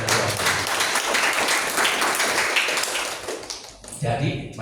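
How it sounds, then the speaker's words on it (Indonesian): Congregation at a Pentecostal Sunday worship service applauding: dense, sustained clapping from a crowd that fills the room, tapering briefly before a final burst, with voices mixed in. "Tepuk tangan yang luar biasa."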